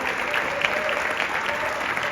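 An audience at a charity walk kickoff award event applauds a second-place team that is absent: a steady, even wash of clapping from a crowd, fairly distant and sustained.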